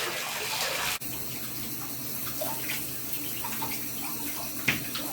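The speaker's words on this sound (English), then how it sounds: "go ahead and rinse everything off" A shower stall is rinsed down with running water, giving a steady, close hiss of spray and splashing on tile that runs the whole time, with one short break near the start.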